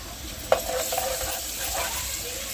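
Ginger paste fries with browned onions in a pan, giving a continuous close sizzle with a single sharp utensil knock at the start and light stirring throughout.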